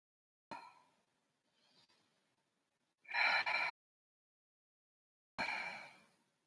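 A person holding a plank position takes sharp, audible breaths: a quick gasp, a faint puff, then two strong forceful exhales spaced apart, close up with no talk in between.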